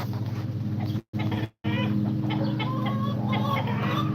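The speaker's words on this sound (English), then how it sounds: "The rooster won't shut up." A Polish rooster clucks repeatedly at close range in a farmyard, giving short throaty calls over steady low background noise, with two brief gaps of silence.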